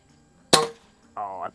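A single Feinwerkbau model 65 Olympic-grade air pistol fires at a range, one sharp, close, loud crack in otherwise quiet surroundings, followed a moment later by a brief spoken reaction.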